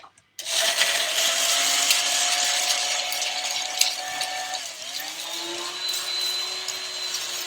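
A spindle blender runs steadily, loud and close, whipping a tiki drink of falernum with ice, its motor pitch dipping briefly midway before settling into a continuous whir with faint rattling.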